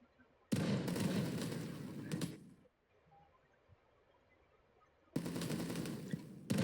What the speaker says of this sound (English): We've got infantry units shooting us, so... Sorry, machine gun towers.